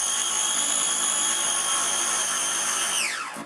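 An electric blender whizzes key lime pie filling with a steady, high motor whine close by, then winds down quickly as it is switched off at the end.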